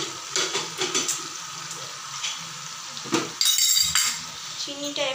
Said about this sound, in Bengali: চিনিটা এভাবে আলুর মধ্যে ভালো করে মিশিয়ে দিচ্ছি।